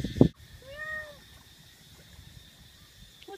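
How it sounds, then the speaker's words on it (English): A cat gives a single clear meow, fairly close and moderately loud, after a short thump, followed by quiet background hum. "Meow."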